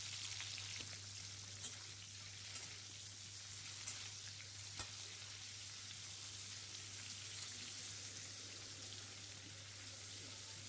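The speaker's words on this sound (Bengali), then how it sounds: "এবার আমি ফুলকপিগুলো ভেজে নেব" Cauliflower florets frying in hot white oil in a pan, a steady hiss with fine crackling pops, close and even throughout with a low hum beneath.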